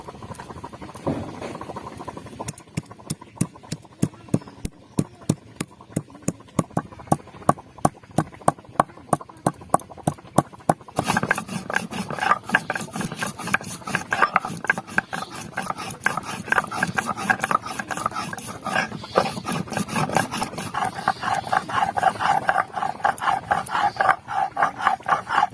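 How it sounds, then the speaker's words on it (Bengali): Cloves, cardamom and cinnamon are ground into a paste on a grinding stone, with a run of sharp regular taps giving way to continuous gritty rubbing and scraping, close and moderately loud. "এখন লবঙ্গ, এলাচ, দারচিনি বেটে নেব।"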